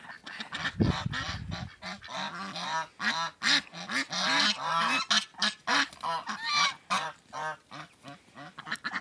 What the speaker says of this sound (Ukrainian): Качки гуси купаються, викупуються біля водички.